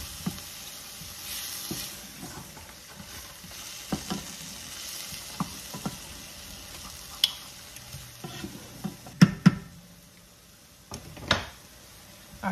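Vegetables being stirred and scraped in a hot pan after chicken stock is added, for a Southern Thanksgiving meal: a low steady sizzle with scattered utensil scrapes and clinks, a few sharper knocks near the end, no voices.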